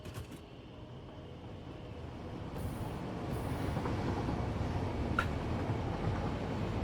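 A train rolling along in a factory-building video game, a low steady rumble that slowly grows louder, with a few brief higher tones and a sharp click near the end.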